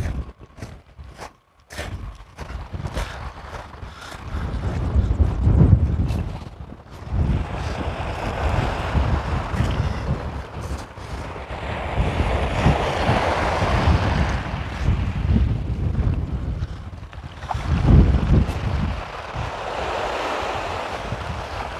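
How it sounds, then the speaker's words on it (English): Strong gusting wind buffets a beach north of Hornsea, roaring in uneven surges over the wash of surf, loud and close, with no voices. "That wind is really gusting now."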